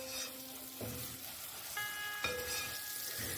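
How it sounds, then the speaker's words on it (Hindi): Onions sauté in a pan for a potato kachalu dish, a faint, steady sizzle of frying with occasional stirring scrapes and light clinks of the utensil against the pan. "अभी हम इसे अच्छे से सौते करेंगे,"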